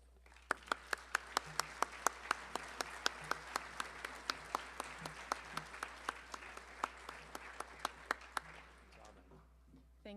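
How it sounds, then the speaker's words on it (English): Applause at an architecture awards ceremony, the CNU Charter Awards 2008: a room of people clapping, with distinct individual claps over a steady patter, fading out near the end of the ten seconds. "I applaud the very young developers, and I applaud also the exceptionally skilled architects"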